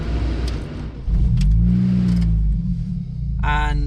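A Mini's engine cranks and catches around a second in, then settles into a steady idle heard from inside the car, with a brief higher whir near the end.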